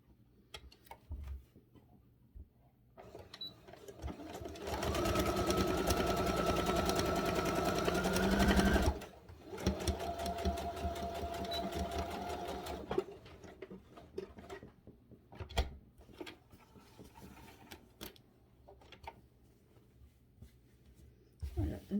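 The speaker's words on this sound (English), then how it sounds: "I'm going to sew this onto the bottom of this strip" A sewing machine runs in bursts, stitching fabric strips for a quilted cover: a steady mechanical whir that holds for several seconds, pauses, then resumes more lightly, with quiet handling noises and ticks between runs.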